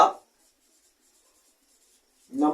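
A pen or marker writes on a paper chart during a classroom lesson: faint, quiet scratchy strokes in a near-silent gap between bits of speech.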